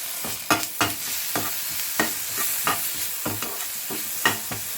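Sliced onions, green chilies and ginger garlic paste sautéing in a pan for chicken egg fried rice, a continuous close sizzle punctuated by rhythmic spatula scrapes roughly every half second.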